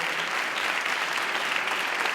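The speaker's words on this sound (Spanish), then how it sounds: "Qué buenos aplausos" Dense, sustained audience applause at a short-film awards gala, many hands clapping in an even wash of sound that holds steady at a strong level from start to finish.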